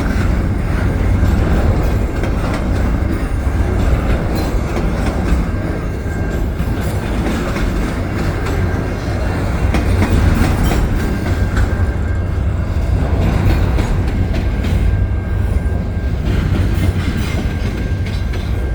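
A CN stack train and mixed freight roll past at close range in St Henri, Montreal, in winter: a loud, steady rumble with rhythmic clickety-clack of wheels over rail joints, sustained throughout with no talk.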